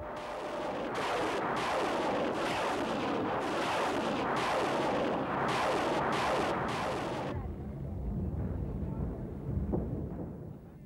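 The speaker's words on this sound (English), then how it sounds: "The multiple rocket launcher was another formidable artillery piece" A multiple rocket launcher fires a sustained, dense barrage on a fortified wartime front, a loud roaring rush with pulsing bursts that cuts off abruptly, leaving a lower rumbling tail.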